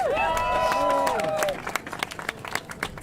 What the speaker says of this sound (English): let's just give her another round of applause